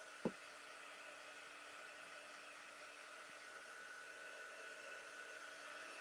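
A hair dryer runs continuously, drying a DIY craft project at home; its steady whooshing hum holds at an even, fairly quiet level after a single brief click at the start.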